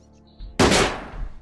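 A single loud, close gunshot in the video game Hammer & Sickle, a sharp crack after brief quiet that decays with a short rumbling tail.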